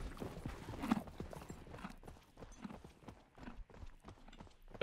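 Horse hooves clip-clop in a video game, a quick, close run of hoofbeats that is loudest at the start, then fades to softer thuds amid faint background noise.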